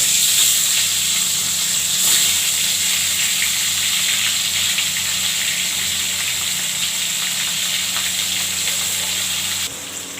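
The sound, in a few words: boal fish frying in hot oil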